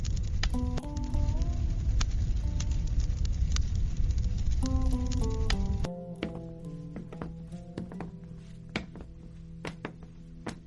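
Rain falls in the monsoon season around a samosa stall, a dense steady patter for about six seconds that then drops quieter among light tonal chimes and taps, with no talking.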